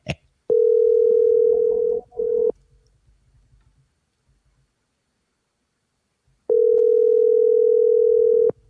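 Outgoing phone call ringback: two long steady tones of about two seconds each, separated by a quiet gap of several seconds, clear and close.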